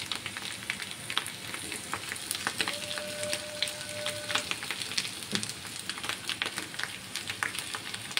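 Chopped ginger and curry leaves sizzle steadily in hot oil, a dense continuous crackle with scattered sharp pops, close and fairly loud throughout with no voices.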